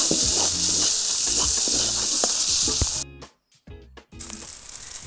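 Chili and turmeric spice paste sizzles and fries loudly in a pan for a prawn malai curry, a steady bright hiss with stirring scrapes, briefly cutting out near the end before resuming.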